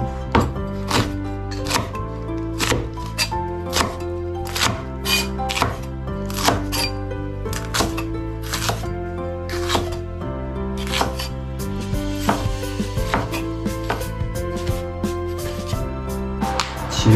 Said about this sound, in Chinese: 辣椒切一下